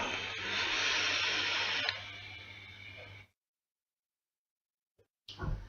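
An Apollo clone vape mod gives a steady, fairly loud vapor hiss for about three seconds, then cuts off into silence before a brief soft shuffle.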